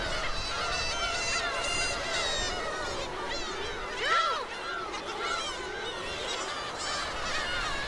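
Black-tailed gulls calling from a colony of tens of thousands on Dokdo island, overlapping loud honking cries rising and falling over a constant rushing background, with one louder call near the middle.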